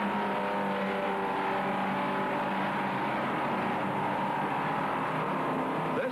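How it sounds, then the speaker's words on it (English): A 1965 race car at Sebring drops gears through the 260-degree hairpin and accelerates hard toward the straight, its engine note droning loud and steady with shifting pitch, no talk over it. "It's back off, clutch, downshift, brake, clutch, upshift, and gun it for the warehouse straight, heading for Webster Turn."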